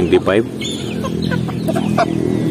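Native chickens cluck close by in short, bursty calls, a few louder squawks standing out over a continuous low barnyard hum.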